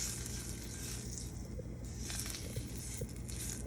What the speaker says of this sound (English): So we're just rendering down the fat.